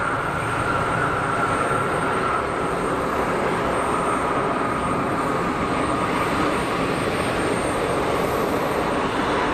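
A heavy airliner's engine starting at Geneva Airport, a loud, steady broadband roar with a whining tone, continuous and fairly near throughout.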